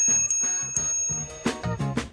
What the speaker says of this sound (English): Another one is this bell. Always good to alert people that you're coming.